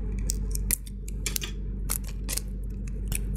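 Adhesive tape handled during a Moshi Palmguard install on a 13-inch MacBook Pro: a series of sharp, close clicks and snips, like scissors cutting, over a steady low hum, with no talking.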